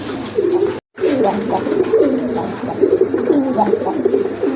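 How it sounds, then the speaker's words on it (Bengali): A pair of lively pigeons offered for sale coo over and over, with loud, close, throaty rolling calls in a steady rhythm that stop for a moment and then resume against a low background hum. "আরেক জোড়া খুবই অ্যাক্টিভ কবুতর চলে আসছে আপনাদের সামনে"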